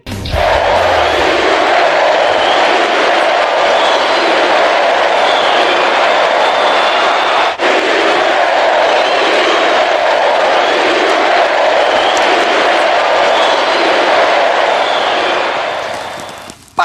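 Corinthians supporters roar for their top scorer Yuri Alberto in a packed football stadium, a loud, dense and continuous wall of crowd chanting and cheering that holds steady throughout.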